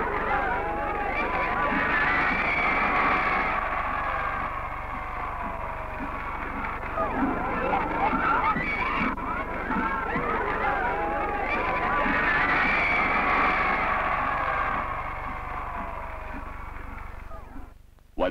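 A large outdoor crowd of children and adults at Los Alamos cheers and chatters steadily as a president greets them, with a dense, continuous roar of voices that swells and eases slightly and never drops away.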